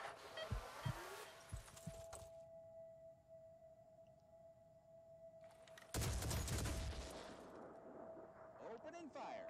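Weapon fire in the video game Phoenix Point comes in two bursts of loud, rapid shots separated by a quieter stretch of steady tonal hum. Scattered thuds precede the first burst, and the second burst is heavier and more sustained.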